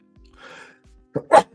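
A short breathy intake followed by two quick, sharp bursts like a sneeze, close and fairly loud, in an otherwise quiet space.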